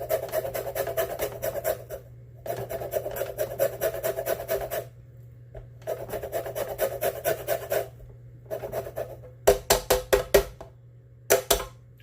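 Lemon zest is grated from a lemon in quick rasping strokes, coming in several rhythmic runs of scraping broken by short pauses, then ending in a few sharper separate scrapes, close and clear.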